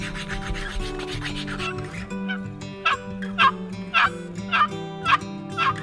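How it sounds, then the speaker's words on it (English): A wild turkey gobbles back in answer to a hunter's call, several loud rattling gobbles bursting out in a steady series over a quiet outdoor background. "all we want to do is have a turkey gobble back"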